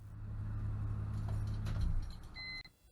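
A BMW E46's engine keeps idling with a deep, steady rumble after its upper radiator hose blew and dumped coolant during a drag race. The rumble fades out, followed by a couple of brief electronic beeps near the end.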